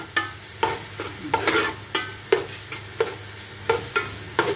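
Onion and garlic sautéing in a hot pan, stirred in a steady rhythm of sharp spatula scrapes about every half second over a continuous close sizzle.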